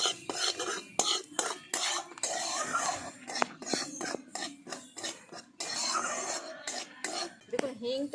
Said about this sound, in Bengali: দেখুন হিংটার সাথে তেলটা ভালো করে মিশিয়ে নিয়েছি